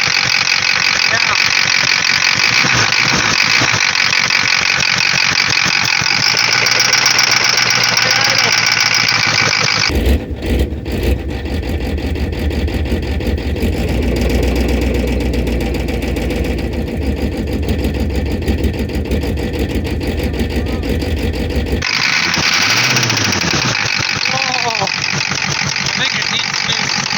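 A 1986 Ford F250 with a 6.9 IDI diesel, just revived after sitting seven years, idles roughly and loudly with a steady mechanical clatter and ratcheting knock throughout, briefly changing tone midway, while people talk nearby.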